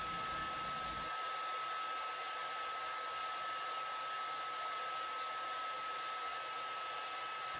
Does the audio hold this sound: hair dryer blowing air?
yes